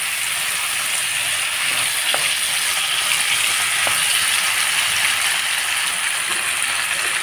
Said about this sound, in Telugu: మిక్స్ చేసుకుంటూ